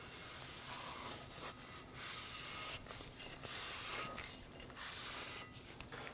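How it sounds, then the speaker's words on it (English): Brake parts cleaner is sprayed onto the rear brake rotor of a 2013-2015 Subaru XV Crosstrek. Quiet hissy bursts come in short uneven spurts, mixed with soft rubbing. "we're going to clean it down using some brake parts cleaner"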